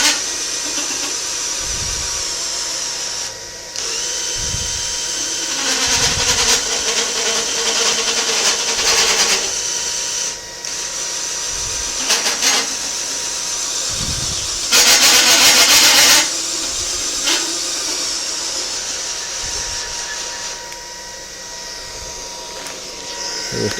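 Several small electric motors running at high speed from a bench power supply, straining and drawing heavy current, give a steady loud whine with brief bursts and dips and occasional low knocks throughout.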